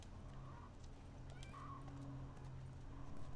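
A horse in a video game gives faint whinnying calls over a constant low background hum, with soft hoof clip-clops in the distance and no talking.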